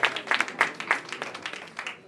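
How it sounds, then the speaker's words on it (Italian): An audience at a legal awards ceremony applauds an award recipient, giving a brief round of moderate, slightly uneven clapping with a few sharper individual claps standing out. "Un applauso anche per lui."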